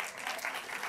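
An audience at an affordable housing policy breakfast applauds, a brief steady burst of many hands clapping together, fairly loud and close.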